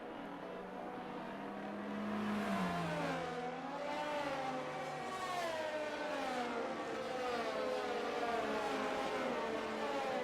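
Race cars in a racing video game lap the Saudi Arabia circuit, engines droning and revving with rising and falling pitch sweeps as several cars run close together, steady and loud throughout.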